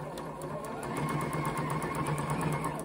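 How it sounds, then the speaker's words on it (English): A sewing machine stitches a quarter-inch seam joining fabric squares for a chick pincushion, a steady rapid mechanical whir with a regular needle clatter, moderately close and uninterrupted. "I'm going to sew at 1/4 inch seam"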